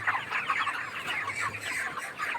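Poultry-farm chickens cluck in a dense, continuous chorus of overlapping calls, close and moderately loud throughout.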